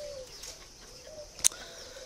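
A spotted dove coos softly at a bird-breeding farm, its low, steady notes faint against a quiet background, broken once by a brief sharp click.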